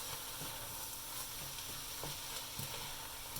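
Ingredients for a bolognese sauce stir-fry in coconut oil, a soft, steady sizzle with a few faint stirring knocks, quiet and without talk.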